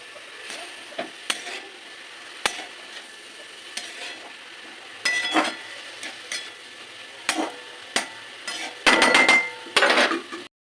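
Vegetables with capsicum being stir-fried in a pan, heard as a run of separate scraping and clattering strokes of a spatula against the pan over a soft sizzle, growing denser and louder toward the end.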